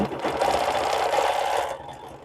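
A home sewing machine stitches a quilt row by row with a steady, rapid needle rhythm, close and continuous for about two seconds before slowing to a stop.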